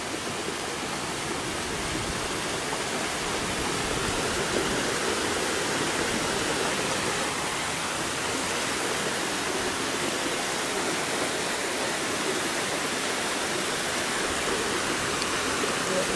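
Heavy spring rain pours down onto a flooded street, a dense, unbroken hiss of downpour and running water that holds steady and loud throughout.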